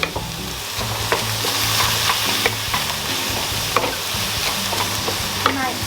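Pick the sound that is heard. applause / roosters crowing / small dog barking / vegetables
vegetables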